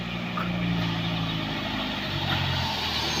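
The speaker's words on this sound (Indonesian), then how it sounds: "dump truck." A Giga dump truck's diesel engine rumbles steadily and loudly at close range, holding an even, low drone throughout with no talk over it.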